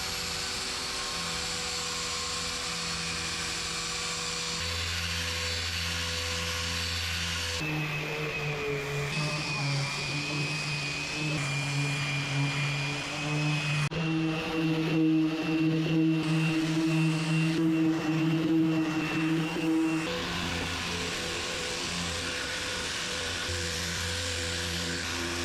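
Steady whirring drone of a power sander working a solid teak cabin door during a boat refit, shifting pitch as the tool moves, continuous and fairly close with no talking.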